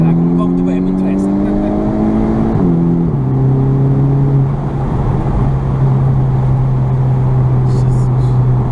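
A Volkswagen Golf R engine accelerates hard in Sport mode, its loud droning note climbing steadily in pitch, dropping sharply at a gear change, then holding a strong, steady roar with road and wind noise inside the cabin.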